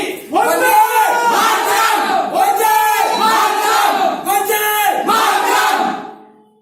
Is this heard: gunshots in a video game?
no